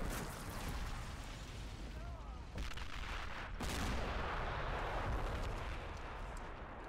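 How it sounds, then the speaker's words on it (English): Explosions and artillery fire from a Battle of Moscow war video game, with a dense, continuous roar of booms and gunfire bursts across the scene and a sharp blast near the middle, under faint speech. "Well, oh, big explosions back there."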